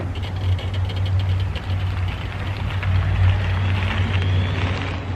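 Club Car DS golf cart with a Navitas controller pulling away slowly, a steady low motor drone with faint road and chassis rattle, moderately loud and close with no voices.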